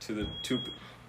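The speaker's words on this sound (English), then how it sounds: "Like, that's the fire alarm." A household smoke alarm set off by cooking at home sounds a steady high-pitched electronic tone beneath a person talking nearby.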